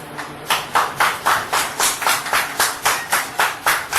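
An audience at an honoring ceremony for a football club in Saint-Marc claps in unison, a steady rhythmic run of about a dozen sharp, evenly spaced beats, loud and close with no talk.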